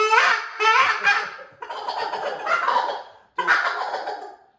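Turkey call worked to imitate a young jake gobbling, giving three loud raspy, honking bursts with short breaks between them, close up and with no talking.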